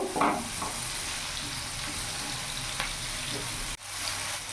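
Chopped onion, green chilli and tomato frying in a pan over a medium gas flame, a constant near sizzle with a stirring scrape at the start and a few fainter scrapes, briefly dipping before resuming.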